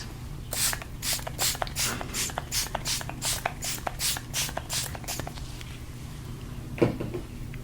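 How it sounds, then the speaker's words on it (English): A rapid series of about fifteen short bursts of cooling facial spray hisses in a steady rhythm, close by, then stops, followed by a single soft knock. "I'm going to have you close your eyes as I spray you."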